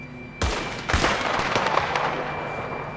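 Gunshots ring out in a snowy mountain scene in Red Dead Redemption 2, two sharp reports in quick succession followed by a lingering echoing tail.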